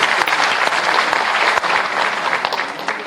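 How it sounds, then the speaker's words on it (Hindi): Loud, sustained applause from a large crowd at a political event in Jabalpur, dense and continuous from start to finish. "इसके लिए जोरदार ताली बजाकर"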